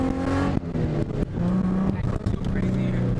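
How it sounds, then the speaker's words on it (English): A small homemade RC car drives slowly with a steady motor whine and a faint grinding from its homemade gear shifter, continuous and fairly loud, with a person talking over it. "And you hear that little grinding? It has to do with the shifter that I made."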